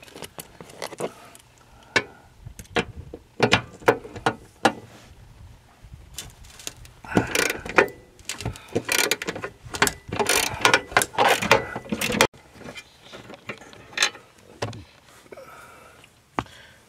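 A wrench works on the bolts of an RV swivel seat, giving irregular metallic clicks, ratcheting bursts and clunks close by.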